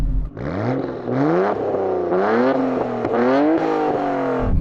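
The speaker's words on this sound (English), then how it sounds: "Go on, rev up the R34." A Nissan Skyline R34 engine revs hard several times in quick succession, its pitch sweeping up and down in a loud, close, continuous roar.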